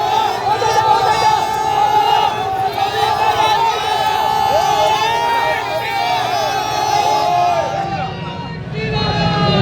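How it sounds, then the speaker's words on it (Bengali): Large crowd at a TMC–BJP political clash in Birbhum, West Bengal, chanting Joy Bangla slogans; a dense, loud wall of many voices and shouting holds throughout, easing slightly near the end. "শুভেন্দু অধিকারীর উদ্দেশ্যে জয় বাংলা স্লোগান তৃণমূলের"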